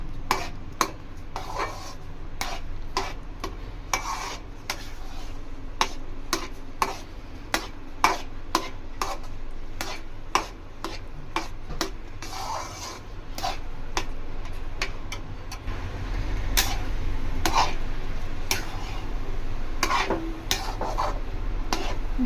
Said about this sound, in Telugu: మీడియం ఫ్లేమ్ పెట్టుకొని మేము కలుపుకుంటున్నాను ఫ్రెండ్స్